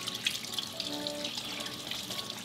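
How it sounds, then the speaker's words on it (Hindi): A kitchen tap runs steadily while raw chicken is washed under it, a continuous close splashing stream into the sink with slight fluctuations. "हस्बैंड चिकन वॉश कर रहे हैं।"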